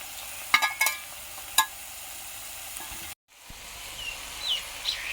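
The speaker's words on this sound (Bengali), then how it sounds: "মশলার সাথে চিংড়ি মাছের সাথে একসাথে মিশিয়ে নিচ্ছি" Prawns and tarul are stirred with spices in a hot pan, giving a soft sizzle broken by sharp spatula clicks and a brief cutout partway through.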